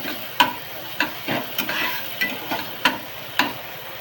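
Onion and tomato fry in a pan under a soft, steady sizzle, while a stirring utensil knocks and scrapes against the pan every half second or so, close by and with no voices.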